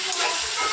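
Tomatoes fry in a pan for a fish curry, giving a steady, close sizzling hiss that stays even from start to finish with no talk.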